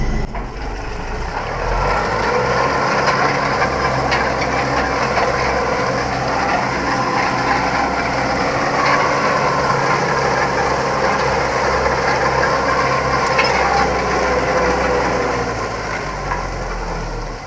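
A tractor pulls a BOMET 2.0 disc harrow through a field, its engine held steady near 2000 rpm with a constant mechanical rattle and hum. The sound runs loud and even throughout.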